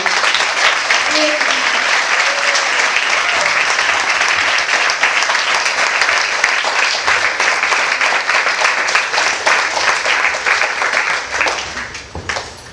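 Audience at a yoga center applauding a visiting swami, a long loud burst of clapping that holds steady for about ten seconds, then fades out at the end.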